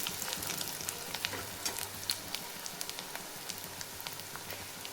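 Two medium onions fry in a pan for a home-style dal, giving a continuous sizzle dotted with sharp, scattered crackles and pops, fairly close and moderately loud, with no one speaking.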